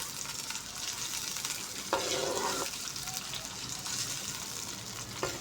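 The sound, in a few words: onions frying in ghee on medium flame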